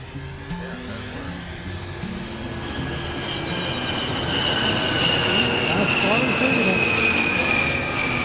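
A Flite Test A-10 radio-controlled model jet flying with differential thrust and a big motor, its loud electric ducted-fan whine holding steady then swelling as it passes near, with rising and falling pitch.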